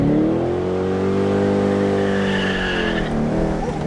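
Loud C5 Corvette engine with a Billy Boat Bullet axle-back exhaust revving high toward the red line, rising and falling whine as tires squeal and fishtail, close and continuous for several seconds.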